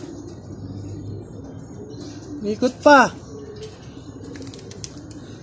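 Racing pigeons come back to their loft in Pagbilao after a training release, with a short close burst of chirps and coos over a quiet background. Someone speaks briefly.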